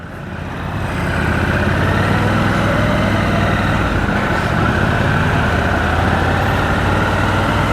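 A 2025 Triumph Scrambler 1200XE with a 1200cc parallel-twin engine idling close by: a loud, steady, deep rumble that swells during the first second and then holds even and unbroken, with no voices.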